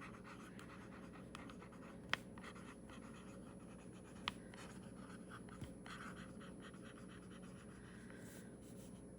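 A fountain pen nib writes on paper with a wet, ink-heavy feed, giving a faint, steady scratching and gliding, broken by a few light taps of the nib, close and quiet with no talk.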